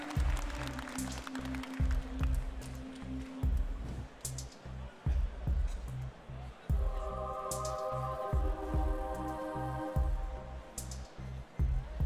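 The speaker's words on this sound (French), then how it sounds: "Vous pouvez les applaudir bien fort." Applause from an audience at a Bazadaise cattle competition rises over a thumping music beat, clapping moderately loud and fairly steady throughout, with a melodic line joining partway.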